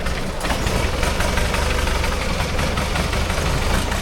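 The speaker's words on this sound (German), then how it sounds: "nur solche mit dem mega überdimensionierten Motor, der furchtbar laut ist und leider stinkt" A loud, steady engine drone runs throughout, heavy and low with a rough, knocking texture, from an oversized motorboat engine close by in Thailand.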